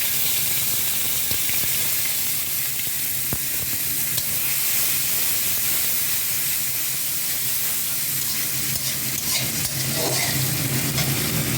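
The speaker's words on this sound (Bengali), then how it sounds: "পেঁয়াজ বাটাটা দিয়ে দিচ্ছি।" Onion paste fries in a pan with a loud, steady hiss and sizzle, close by, while a utensil stirs and scrapes through it in occasional strokes, with no talk.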